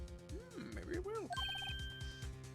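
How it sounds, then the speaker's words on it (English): A modern ringtone chimes in Phoenix Wright: Ace Attorney, a short repeating electronic melody of bright tones sounding over background game music with rising sweeps, heard clearly up close. "I heard a phone ring just now. One of those newfangled ringtones."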